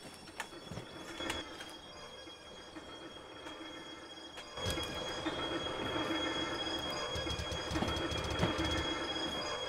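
A steam locomotive in Derail Valley rolling along the track, with steady rumbling, clanking couplings and squealing wheels that grow louder and denser partway through.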